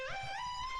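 A screech synth lead played dry, without Camel Crusher distortion: one bright sustained note that swoops up and settles into a steady, clean, thin tone, alone and close.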